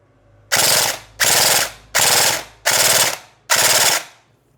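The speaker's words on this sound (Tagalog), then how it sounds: "Full auto." An airsoft gun fires in full-auto mode in five loud, rapid bursts of roughly half a second each, separated by short pauses, with no talking.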